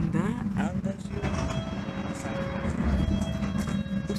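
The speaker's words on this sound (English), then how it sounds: "This is an all station Metropolitan Line train to Amersham" A London Underground Metropolitan Line train rumbles at the Barbican westbound platform, a steady low roar with squeals and clanks, while someone talks over it.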